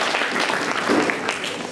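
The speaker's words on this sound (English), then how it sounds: "So a big round of applause for Siva." Brief applause from a coders club launch audience in Saratoga, a short burst of many hands clapping at moderate loudness, with a voice briefly mixed in.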